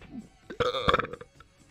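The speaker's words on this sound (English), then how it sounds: "high-pitched burp for me. Nothing to be ashamed of." A single high-pitched burp, short and close, rising abruptly and trailing off with a few vocal bursts, under about a second long.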